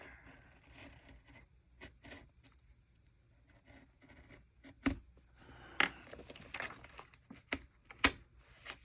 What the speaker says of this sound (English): I find a little cutting tool like this is easiest to get pretty close